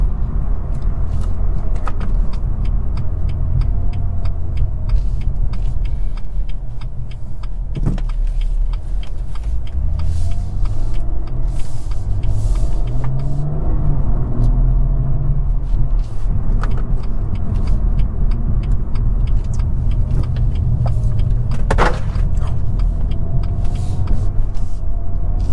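A BMW M240i's turbocharged engine pulls along a road, heard from inside as a steady, loud drone whose pitch climbs and falls through several rising sweeps of acceleration, with no talking.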